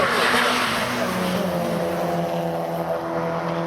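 Race cars at speed on the Cadwell Park circuit during a 750MC club meeting, a loud continuous engine roar that sweeps and drones as the cars pass close by, with no talking.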